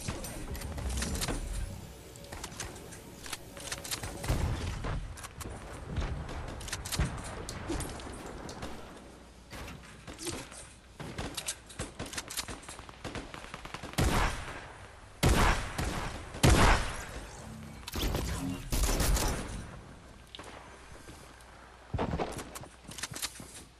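Shotgun blasts and other gunfire in a Fortnite Battle Royale match, sharp broadband bursts scattered irregularly over a busy game soundscape, with the loudest volleys clustered late.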